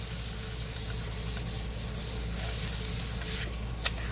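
Paper is rubbed firmly by hand to transfer a printed digital image onto a vellum sheet, a steady close scratchy rasping that continues without pause and ends with a small tap.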